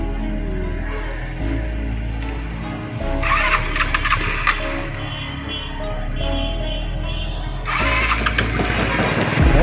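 A Rusi RFI 175 motorcycle that is hard to start and stalls at idle, its engine cranking and catching, then revving loudly in rising throttle bursts between steadier running, close up.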